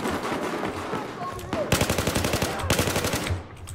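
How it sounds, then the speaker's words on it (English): Battlefield 4 gameplay carries a rapid burst of machine gun fire, loud and rhythmic, that rattles for about two seconds amid ongoing battle noise. "He's shooting at me."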